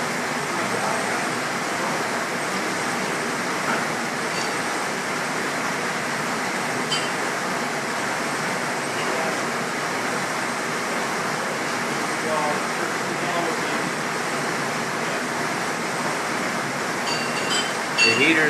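A 130 VL commercial dishwasher runs its wash cycle with a steady, dense rush of spraying water and a constant mechanical hum, even and unbroken throughout.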